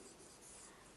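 Pen writing an answer statement for a decimals maths problem, a faint close scratching across paper for about a second, ending in a brief louder knock.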